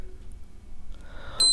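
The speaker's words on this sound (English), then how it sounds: "The unit will beep once." Low background rumble, then a single short, high-pitched electronic beep from a GEM-II gas detector near the end.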